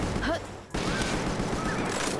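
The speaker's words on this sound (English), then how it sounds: "It's the starter assault rifle. We'll get better, but damn." Starter assault rifle fired in Palworld, a dense burst of rapid gunshots running nearly throughout, with a short break partway through.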